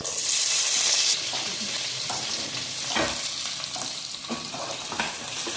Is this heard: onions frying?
yes